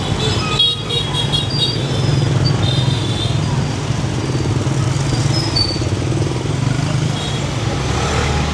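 Busy street traffic in Hanoi roars steadily, with motorcycles and cars passing close by, engines droning and occasional horn toots cutting through the noise.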